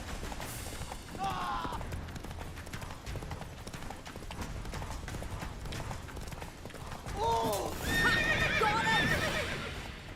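Steady clip-clop of hooves runs throughout, with two loud horse neighs rising over the galloping, game-style sound effects and background music.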